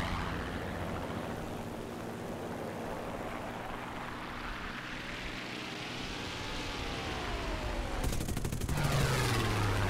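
A P-51C-10 fighter in War Thunder fires its machine guns in sustained rattling bursts over the droning aircraft engine, and the firing grows louder near the end.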